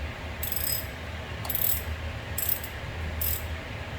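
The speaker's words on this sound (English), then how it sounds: "now we're going to take these two bolts off of the caliper" Ratchet wrench loosening 14 mm brake caliper bolts on a 2012 Chrysler 200 during a front brake pad job, giving four short bursts of rapid clicking at a steady pace over low background hum.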